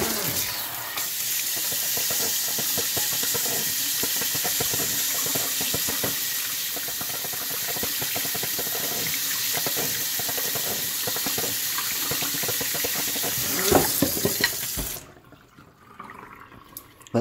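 Tap water gushes steadily into a Core Hydration water bottle for around fifteen seconds, loud and close with splashing, then cuts off abruptly, leaving a few faint drips.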